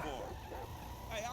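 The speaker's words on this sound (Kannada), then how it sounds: "ನಾಯಿ ಹಿಂದೆ ಬೊಗಳ್ತಾ ಇದೆ ಬೌ ಬೌ ಅಂತ" A dog barks from the back of a car in the video game GTA 5, giving short yips over steady engine and road noise with game voices running throughout.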